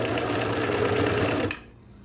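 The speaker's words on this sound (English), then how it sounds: "do the sewing on it right now. And I'm using my zigzag" Vintage sewing machine running a zigzag stitch, a loud close mechanical whirring chatter lasting about a second and a half before stopping abruptly into near silence.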